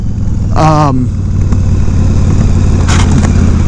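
A Yamaha V Star 1100 Custom cruiser motorcycle out on a ride, its engine holding a steady low drone with wind rush throughout, and a brief voice-like sound rising over it near the start.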